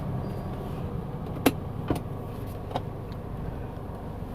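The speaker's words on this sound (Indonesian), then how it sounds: "Di sini saya akan coba testing performa dari mobil Avanza Matic 1300 cc yang baru saya beli." Toyota Avanza automatic with a 1300cc engine driving on a steep road, heard as a low, steady cabin rumble with a few faint clicks and knocks, no voices.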